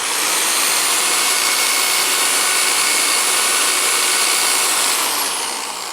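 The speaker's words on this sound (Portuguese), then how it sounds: "isso aqui é uma furadeira. Então observa, olha só o que vai acontecer, vocês vão ouvir o barulho ligando" A handheld electric drill runs at full speed, a loud, steady high-pitched whine held close for several seconds before starting to wind down at the end.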